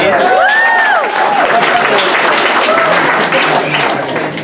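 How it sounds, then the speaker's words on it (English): An audience claps in a sustained round of applause, a dense wash of hands close by with a few whoops and cheering voices rising over it early on. "Please give yourself a round of applause."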